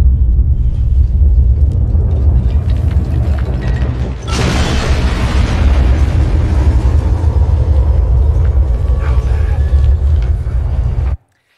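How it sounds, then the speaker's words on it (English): A video game nuclear explosion, a dense continuous rumbling boom with a sharp surge of blast noise partway through, loud and sustained before cutting off abruptly. "here's a video game nuclear explosion for you"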